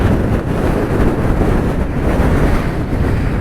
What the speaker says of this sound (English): I don't know where to camp, it's so windy.